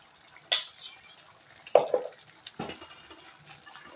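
Turmeric, coriander and chili powders are stirred into a raw-ground egg curry masala, giving a few separate scraping strokes with quiet gaps between them.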